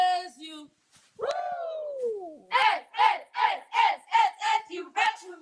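A group of female cheerleaders chants a rhythmic cheer at a live campus event, about eight sharp, evenly spaced shouted beats after a short spoken cue and a rising whoop, loud and close.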